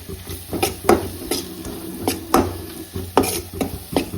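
Spice masala frying in a pan on low heat while being stirred, with repeated scraping strokes of a spoon against the pan over a soft, steady sizzle, close and alone.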